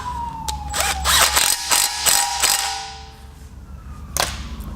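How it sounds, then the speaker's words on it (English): A ratchet wrench clicks in quick bursts while a lock nut is tightened on the oil pan of a 1960 Chevy Biscayne being swapped to an LS engine, loud and close in a garage. "I'm going to go ahead and tighten up this last nut."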